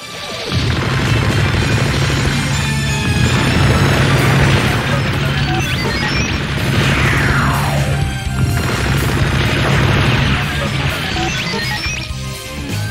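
Heavyarms Gundam emptying all its ammunition in SD Gundam G Generation, a dense, loud barrage of crashing blasts and impacts that runs almost continuously, with brief dips between volleys.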